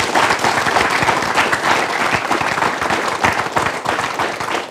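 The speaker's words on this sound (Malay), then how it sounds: "Kita berikan tepukan." An audience at a Malaysian televised panel discussion applauds a newly introduced panelist, steady, dense clapping from many hands that carries on throughout at full strength.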